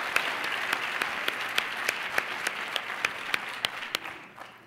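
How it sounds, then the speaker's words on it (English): A crowd at the Indiana's Junior Miss 2007 pageant applauds, a steady wash of clapping with a few sharp, regularly spaced nearby claps standing out, before it tapers off at the end. "So let's give a round of applause for all those national sponsors."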